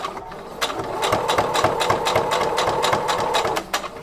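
A sewing machine stitches waffle fabric with a fast, steady run of needle strokes, close and even, pausing briefly near the end, with no talking.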